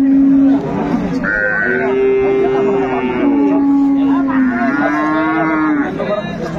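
Cattle moo loudly and repeatedly at a busy livestock market, long drawn-out calls overlapping one another close by while people talk in the background.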